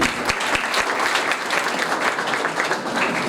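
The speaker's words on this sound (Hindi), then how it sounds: "तो जोरदार तालियां हो जाएं एक बार फिर।" Dense, steady applause from an audience at Software Expo 2017 fills the whole stretch, loud and continuous without pause.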